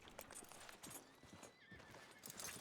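A horse in the Red Dead Redemption 2 video game gives a clear whinny while its hooves clip-clop close by, brief and moderately loud, with no speech.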